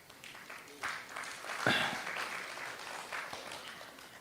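Scattered audience clapping during a live talk, a moderate patter of hands rising briefly with a faint voice or whoop in the middle, then continuing steadily at a modest level.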